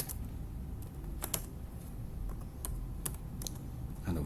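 Keystrokes on a computer keyboard while coding JavaScript, a sparse run of separate clicks with short pauses between them, fairly quiet over a low steady room hum, no voices.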